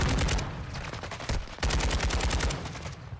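Gunfire in a military shooter video game, with rapid automatic bursts crackling loudly and almost without pause, and a short break near the middle.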